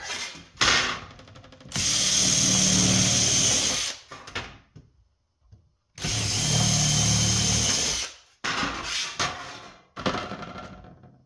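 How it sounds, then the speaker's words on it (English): A power drill bores a bolt hole during a Powermatic 300 machine rebuild, with two long loud bursts of drilling separated by pauses and shorter spurts of the motor before and after. "So I already drilled one hole."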